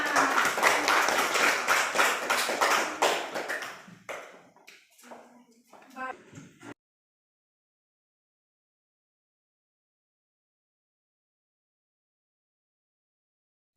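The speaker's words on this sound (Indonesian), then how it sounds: "tepuk tangan dulu untuk kelompok semangat" Group applause from a classroom of children, a dense burst of clapping for a few seconds that thins into scattered claps and a voice before stopping into silence.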